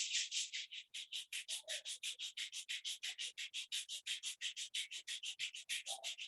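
Palms rubbing together in a steady, rapid rhythm of dry swishing strokes, close and soft, continuing alone without talk.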